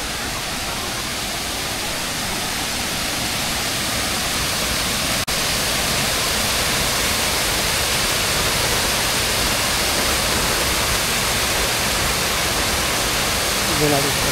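Cabugahay Falls pours in a continuous, loud broadband rush of falling water, steady and close throughout with no break.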